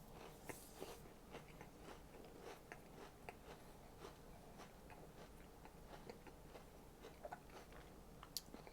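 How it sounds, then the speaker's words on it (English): Biting and chewing a Kit Kat chocolate wafer bar, close and quiet, with a steady run of small crisp crunches and clicks scattered through the whole stretch, no talking. "No problem eating a Kit Kat bar wrong."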